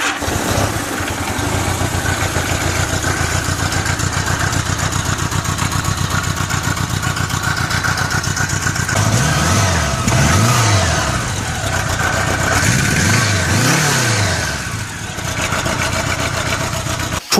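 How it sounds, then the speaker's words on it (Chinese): A Honda Gold Wing motorcycle's flat-four engine idles loudly and steadily up close, then is revved several times in quick rising and falling swells before settling back to idle. "谢谢大家听一下排气声浪。"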